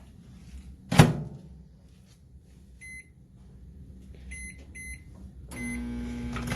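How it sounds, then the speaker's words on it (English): A microwave hums steadily, with a loud thunk near the start, then a few short electronic beeps, followed by a louder whirring as it runs. "that lovely little mixture is going to go in the microwave for 1 minute to start"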